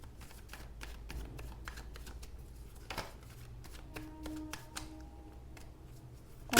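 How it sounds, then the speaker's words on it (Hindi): Tarot cards are shuffled with quick, crisp riffling flicks in uneven bursts, followed by individual cards being drawn and laid down, close and moderately quiet. "तो चलिए कार्ड्स निकालते हैं।"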